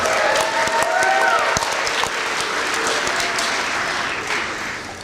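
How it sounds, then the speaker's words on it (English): An audience at Madison High School's senior awards ceremony breaks into a steady burst of applause with scattered cheers, holding strong before gradually fading. "You guys are cheering because you're looking at your program"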